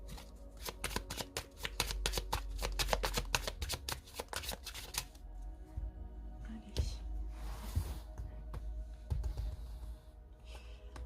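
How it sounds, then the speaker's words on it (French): Tarot cards are shuffled up close in quick, crisp riffling bursts, dense for a few seconds and then sparser, with lighter slides and taps. "Alors, je vais bien les mélanger."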